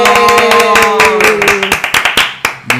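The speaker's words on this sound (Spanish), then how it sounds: "¡Aplausos!" Loud, close hand clapping from a few people at a podcast opening, with a sustained tonal music chord underneath at first. The claps then turn into distinct, uneven individual smacks that thin out toward the end.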